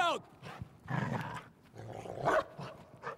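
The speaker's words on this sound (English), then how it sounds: "Dog!" A dog barks and snarls amid winter combat in a World War II Stalingrad sniper game, several rough bursts mixed with shouting voices and battle noise.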